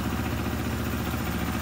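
A Moto Morini X-Cape 650 motorcycle engine idles close by, a steady low rumble with an even pulsing beat.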